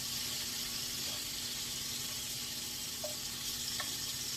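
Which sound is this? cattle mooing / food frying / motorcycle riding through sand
food frying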